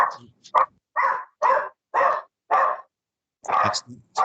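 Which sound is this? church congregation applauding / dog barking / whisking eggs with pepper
dog barking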